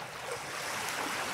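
Flowing water with a wave-like wash, a steady broadband rush that stays even and fairly close for the whole moment, no voices.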